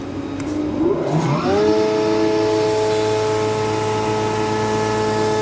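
A Pro 623 profile woodworking machine with six motors spins up under a soft starter, its rising hum climbing smoothly for about a second and a half before settling into a steady, loud mechanical whine that holds to the end.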